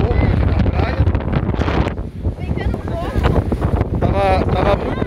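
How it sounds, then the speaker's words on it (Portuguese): Strong beach wind buffets the microphone with loud, continuous roaring gusts, while people talk close by throughout. "Olha o ventão que tá fazendo."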